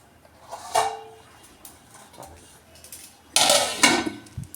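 Metal lid set onto a cooking pot of jackfruit and potato curry, with a clanking clatter of metal on metal near the start and a second louder clatter later, heard close up in a quiet kitchen.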